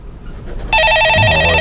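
A telephone rings loudly in a stock-market call-in broadcast studio, cutting in abruptly after a quiet moment and then holding a steady, bright electronic trill.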